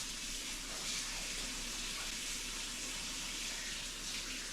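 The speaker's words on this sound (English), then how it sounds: "I'm just going to run it under warm water." Warm water runs steadily from a tap in a home, a continuous broadband splashing hiss that holds at an even level throughout, with no voices.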